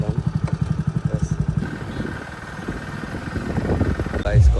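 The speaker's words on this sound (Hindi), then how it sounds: "अभी 2 मिनट में बाइक आ चुकी है, एक ही बाइक।" A motorcycle engine idles nearby with a regular pulsing throb, then settles into a rougher, lower rumble as street noise and background chatter mix in.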